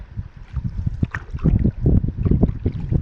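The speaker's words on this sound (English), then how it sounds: "I would have to face the full brunt of this wind" Strong wind gusting across Little Sag, a large Boundary Waters lake, during a solo canoe trip, roaring low and steady with buffeting rumbles and splashy water noise close by, no voices.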